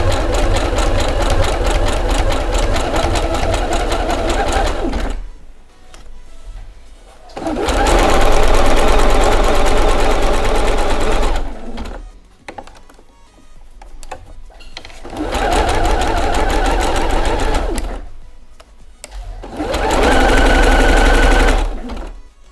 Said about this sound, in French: Moi je vais faire un petit point zigzag.